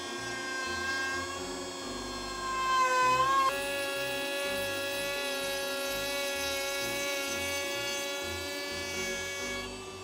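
A small woodworking power tool, set up with a fence against the cutting face, whines steadily with strong tonal harmonics while cutting wood for a tea tray; the pitch shifts midway as the load changes, loud and close with no talking.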